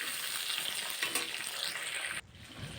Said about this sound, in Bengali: এরপর টমেটোটা ভালো করে আলুর সাথে একটু ফ্রাই করে নেব